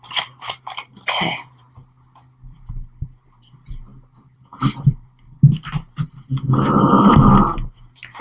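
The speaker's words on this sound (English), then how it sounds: "If you hear snoring, that's my pug." A pug snuffles and snorts in short, uneven bursts, then lets out one longer, rasping snore near the end. The sound is close but fairly quiet.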